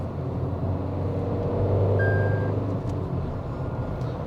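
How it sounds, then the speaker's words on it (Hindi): Low, steady diesel engine growl from a 2025 Tata Altroz Diesel idling and revving slightly, a continuous rumble with a brief faint beep in the middle. "अभी आपको इंजन का ग्राउल सुनाता हूँ।"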